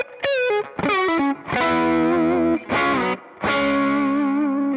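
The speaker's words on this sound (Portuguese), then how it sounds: "Desliga a modulação e o delay e liga a distorção." An electric guitar through the distortion effect of a Valeton GP-5 multi-effects pedal plays sustained, saturated notes and bends in several loud phrases separated by short gaps, with no voices.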